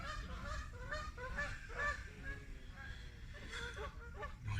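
A flock of geese by a fishing lake honks on and off in the background while a person talks over them.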